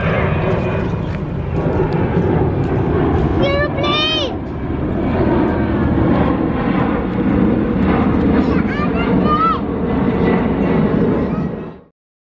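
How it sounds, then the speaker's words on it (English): Airplane passing overhead on a hot, sunny day on Bintan island, a broad steady roar with birds chirping and people talking nearby. "Oh, there's a plane over there."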